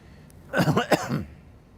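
A single short, rough throat-clearing cough from a man with the flu bursts out in a quiet room, lasting under a second.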